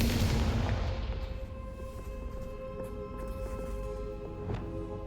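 A Confringo fire spell blasts in Hogwarts Legacy, a loud whooshing boom at the start that fades into a low rumble and faint ringing tones, with a small pop later.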